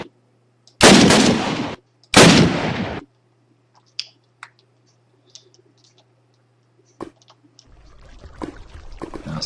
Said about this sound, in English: We'll give you one more TNT explosion.